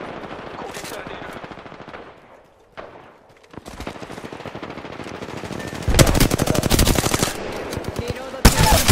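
Gunfire in Apex Legends, with rapid automatic bursts that build from quieter volleys to loud, dense sustained fire near the end, broken by a brief lull and mixed with game voice lines.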